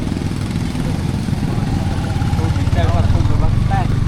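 A motorcycle engine runs steadily close by, a low, constant rumble throughout, while people talk over it.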